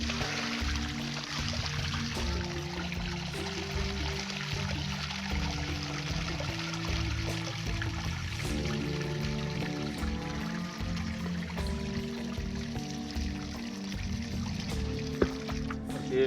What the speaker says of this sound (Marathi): धुवून काढून असं पाणी ओतून द्यायचं